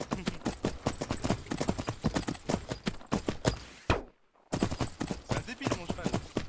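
Rapid, steady clip-clop of horse hooves at a brisk gait in an Attack on Titan roleplay video game, briefly cutting out to silence before resuming, with some voice mixed in.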